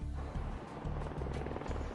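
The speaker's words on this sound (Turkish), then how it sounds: "Deniz aslanı bütün helikopterler içinde muhtemelen en sabit platformdur." A Sea King helicopter flies with a continuous loud, dense rotor and engine roar and a rhythmic low thumping from the blades. Faint narration sits underneath.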